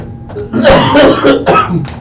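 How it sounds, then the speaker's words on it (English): A few harsh, throaty coughs in quick succession, close up, with a brief throat-clearing rasp near the end. "I'm so sorry for my cough, everybody"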